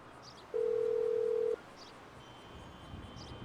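A phone in a video game dials out to call in a weaponized vehicle, a single steady tone of about one second, clear and close over a faint background hum.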